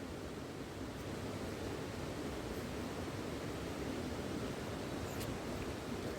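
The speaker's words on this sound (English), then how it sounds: "that's the actual water tumbling down there" A waterfall at St-Alban-les-Eaux pours continuously, its broad, steady hiss of tumbling water heard faintly from a distance with no other sounds rising above it.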